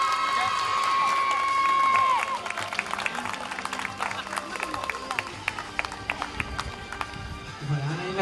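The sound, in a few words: audience applause at pony show prize ceremony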